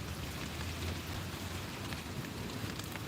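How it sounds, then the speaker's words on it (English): Steady, dense rain falls on a rainy morning in Connecticut, a constant hiss of drops hitting surfaces with no pauses and no voices. "we've had so much rain here in Connecticut"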